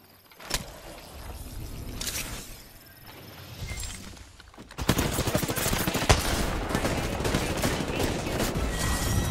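Video game gunfire: a few scattered sharp shots at first, then a dense, loud burst of continuous automatic fire that carries on to the end.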